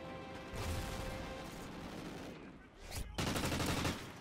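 Gunfire in Call of Duty Ghosts, a sustained burst of rapid automatic fire followed by a brief pause and a second loud burst, close and dense.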